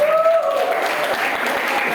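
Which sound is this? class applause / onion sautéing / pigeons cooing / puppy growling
class applause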